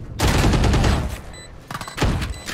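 Rapid bursts of gunfire in the Valorant video game, two loud clusters of shots separated by a short pause, close and dominant.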